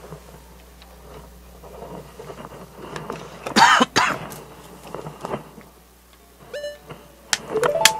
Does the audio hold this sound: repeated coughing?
yes